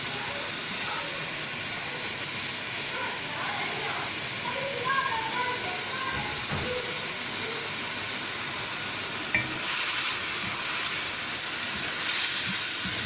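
Capsicum for chicken chowmein stir-fries in a hot pan, giving a loud, steady hiss that holds across the whole stretch, with faint clinks and scrapes beneath it.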